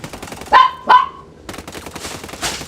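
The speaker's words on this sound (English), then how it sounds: "I'm also trying to wrangle the dogs at the same time." Two sharp, loud dog barks in close succession, followed by a rapid rattling burst of gunfire in a video game.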